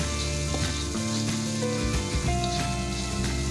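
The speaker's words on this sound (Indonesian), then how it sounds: "Kita aduk lagi" Tuna curry with tamarind water sizzles and fries steadily in a pan while being stirred, a dense continuous crackle close up with occasional scraping of the spoon.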